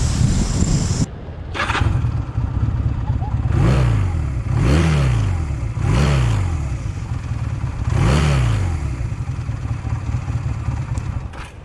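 A Honda CB250 Nighthawk twin-cylinder motorcycle engine runs and revs repeatedly, with several rising and falling throttle blips over a steady idle rumble, close by.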